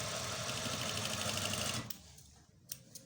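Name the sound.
sewing machine stitching a cuff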